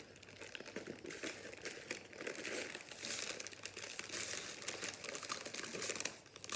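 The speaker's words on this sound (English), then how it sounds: "Sorry for the crinkling." Steady close crinkling and rustling of plastic packaging around cross-stitch supplies, continuous and fairly busy throughout with no talk.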